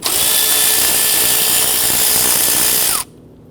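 A power driver loosens 10mm bolts on the intake manifold of a 2011–2015 Kia Sorento, giving one loud, close, continuous whir that winds down and stops after about three seconds. No voice is heard.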